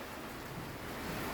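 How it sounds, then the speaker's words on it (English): Heavy rain pours steadily over a small hostel courtyard in Esteli, Nicaragua, a faint, even wash of hiss with no other sounds standing out. "it's pouring rain just now today"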